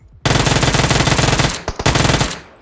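Rapid automatic gunfire in the video game PUBG Mobile, from an M249 light machine gun, rattles loud and close in a sustained burst, breaks off briefly, then fires again.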